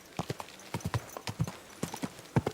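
Horse hooves clip-clop in the video game Kingdom Come: Deliverance II, a close, lively run of uneven hoofbeats heard alone over the whole stretch.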